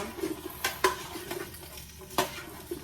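Potatoes with onion and minced garlic are stirred in a pot, a spoon scraping and clinking against the metal in a few distinct strokes over a faint sizzle.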